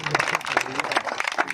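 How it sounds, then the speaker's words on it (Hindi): Audience applause at a political gathering welcoming Gujjar leaders joining the BJP, steady crowd clapping with scattered cheers filling the short moment. "और जोरदार तालियों से अभिनंदन किया जाए।"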